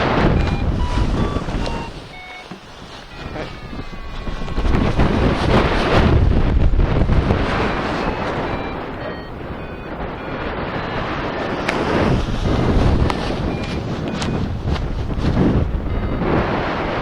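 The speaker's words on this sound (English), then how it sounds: "Look at that dust and the fucking wind." Strong, gusty wind roars steadily against the microphone throughout, a loud continuous rush that swells and eases while dust blows in an exposed spot during an alpine race.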